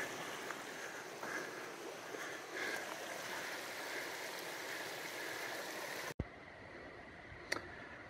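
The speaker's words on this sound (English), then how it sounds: "Beautiful river, beautiful pine trees." A mountain river flows beside a pine-forest trail in Utah in autumn, a steady close rushing wash of water that cuts abruptly to a much quieter background near the end, with a brief sharp tick afterward.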